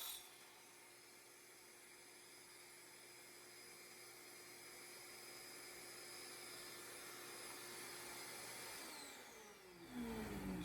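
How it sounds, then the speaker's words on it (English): Faint, steady whine of a vacuum running continuously beside a miter saw workbench, with a shift in tone and a rising sweep near the end. "you want to have your vacuum running"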